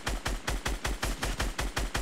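Rapid automatic gunfire in the Fortnite video game: about ten evenly spaced, punchy shots in a steady rhythm, close and fairly loud with no talking.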